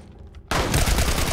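Assault rifle gunfire in The Last of Us erupts suddenly after a quiet stretch, a loud, sustained automatic burst of rapid shots close up, with no talking.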